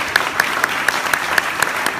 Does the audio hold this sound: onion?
no